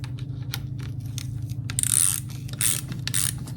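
Ratchet wrench snugging the clutch cover bolts on a Harley-Davidson Twin Cam during a Drag Specialties clutch install, a steady fast run of close metallic clicks over a low mechanical hum, with a few louder bursts as the pawl spins.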